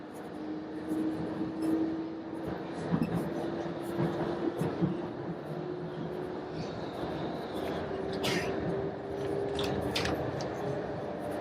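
Steady rumble of a train ride in Iran, wheels droning on the rails with a faint squeal and clatter as the carriage rolls along, people talking quietly under the noise.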